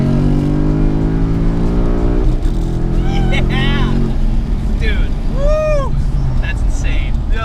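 A 2018 Ford Mustang GT V8 revs hard in a second-gear pull, rising loudly and steadily from inside the car before easing off, with a person talking over it.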